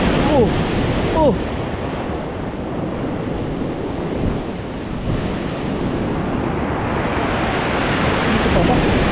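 Large ocean waves crash and churn in a steady roar at Casiguran, Aurora, with gusty wind noise on the microphone and a faint voice briefly underneath.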